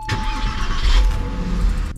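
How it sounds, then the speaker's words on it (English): A car engine cranks and catches in one continuous burst, then settles into a steady running drone close by, with no voices over it. "Last thing I want to do is give this car a start, and hopefully it doesn't squeal."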